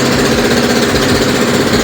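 A Thumpstar TSF150 dirt bike's single-cylinder engine runs in a steady, loud, close-up rapid thumping idle with a constant mechanical rattle and no pauses.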